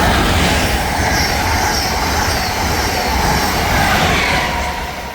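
A fast train races past Metropark station on the Northeast Corridor, a loud, steady broadband roar of wheels and rushing air that holds for several seconds and then begins to ease at the end.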